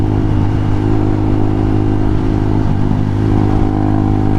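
A Honda Hawk 250 motorcycle being ridden gives off a steady, loud, close engine drone with a constant low harmonic hum and wind rush, holding an even pitch throughout with no talking.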